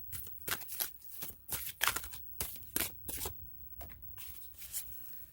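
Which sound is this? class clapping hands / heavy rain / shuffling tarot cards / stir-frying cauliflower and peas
shuffling tarot cards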